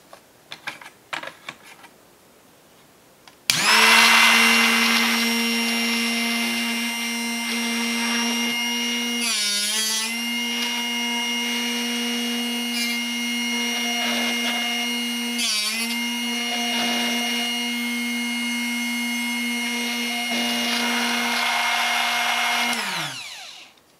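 After a few soft clicks, a Drill Doctor 350X bit sharpener starts up with a loud, steady motor whine that runs for about twenty seconds, with two brief grinding wobbles as the bit is worked, then spins down.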